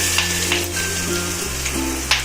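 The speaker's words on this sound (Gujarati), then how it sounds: "એને સોટે કરી દઈશું બરાબર સરસ રીતે." Ginger, chillies and onion sizzle steadily in hot oil with a pinch of asafoetida, a close, continuous frying crackle with occasional stirring scrapes under a low kitchen hum.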